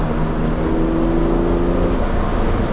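A Series 1 Jaguar E-Type engine drones steadily at close range, accelerating hard in second gear from 30 mph, holding a low, even growl as it pulls under load.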